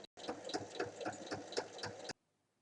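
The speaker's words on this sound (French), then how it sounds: "il faut faire une piqûre tout le tour à 1 mm" A sewing machine topstitches 1 mm from the edge around a fabric bag's openings, a close, fast mechanical whir with rhythmic needle beats for about two seconds before stopping abruptly into silence.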